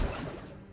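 A summoning spell fires in Hogwarts Legacy with a quick, heavy whooshing crash that fades within a second.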